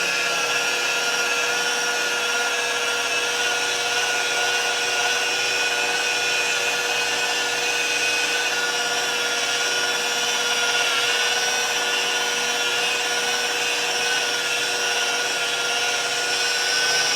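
A rotary polisher runs at its lowest speed for wet sanding car paint, a steady, close, unbroken high-pitched whine with a constant hum beneath, holding even throughout with no one talking.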